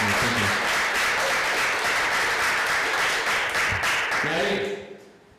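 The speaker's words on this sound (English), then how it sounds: "Let's give a warm round of applause for Ethan" Sustained audience applause at a high school poetry awards ceremony, dense and steady for several seconds before fading out as a voice begins to speak.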